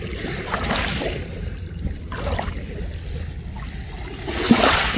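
Strong waves wash and churn close by in steady surges of broadband water noise, with no talk.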